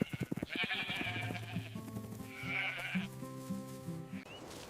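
Sheep bleat in a few long, wavering calls, close and fairly loud, overlapping one another with no talking.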